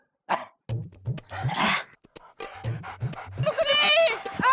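A person imitates a dog panting as a comic yoga pose on a comedy show, giving quick rhythmic huffing breaths in several bursts, close up and fairly loud, with whimper-like vocal tones near the end.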